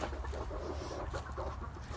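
A meat chicken clucking inside a finished backyard coop, a steady stream of soft, close clucks over a constant low hum.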